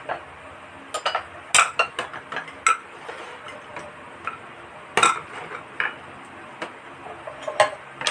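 Arita porcelain dishes handled and set against one another, giving bright, irregular clinks and taps, some sharp and close, scattered across several seconds over a quiet background.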